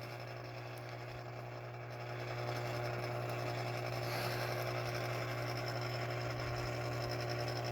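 A rebuilt Wilson WR-500 antenna rotator motor runs, making a steady low hum with a faint mechanical whir; it grows a little louder after a couple of seconds and keeps turning evenly.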